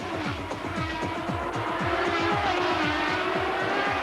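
IndyCar race cars roar away at the flying start of the 1993 Surfers Paradise street race, a dense pack of engines screaming in rapid overlapping rising-and-falling passes, loud and continuous throughout.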